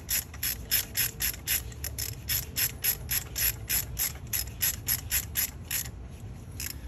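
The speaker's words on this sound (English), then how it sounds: "get your ratchet." A hand ratchet clicks in quick repeated bursts while tightening spark plugs on a 2001-2006 Honda Civic, close and crisp with a steady back-and-forth rhythm and no talk.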